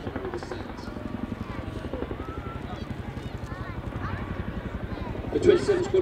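An RAF Chinook HC-6 twin-rotor helicopter flying a display manoeuvre at an air show gives off a steady, rapid rotor chop with a rumbling engine drone, swelling slightly near the end, while a voice is faintly present.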